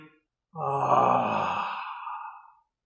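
A slow, audible exhale during a qigong spinal-flow breathing exercise, one long soft breath lasting about two seconds, close and steady, fading gently at the end with no talking.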